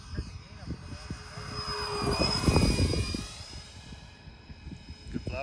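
A J-65 light airplane makes a flyby on a windy day, its engine drone swelling as it approaches, peaking overhead and fading away, with low wind rumble buffeting throughout.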